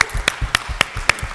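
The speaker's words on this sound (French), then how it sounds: "Applaudissez." Sparse, rhythmic clapping at a youth skills forum in Mauritania: about six crisp, evenly spaced claps, fairly close, with no talk over them.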